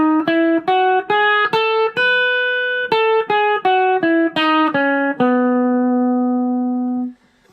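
A B Mixolydian scale picked note by note on guitar, each pitch ringing clearly in an even stepwise run, then settling on a final sustained note that fades away.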